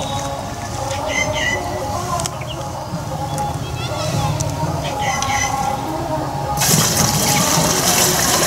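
Water is poured into a container to mix a pesticide solution for spraying potato plants. A loud, splashing gush comes in the last two seconds, after stretches of people talking over background noise.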